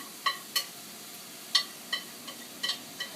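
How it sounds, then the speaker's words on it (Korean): Eggplant stir-frying in a little oil in a frying pan, giving a faint soft sizzle punctuated by a series of light, irregular clicks and scrapes as the pieces are stirred, quiet and close with no talk. "그 다음 가지를 볶아주세요."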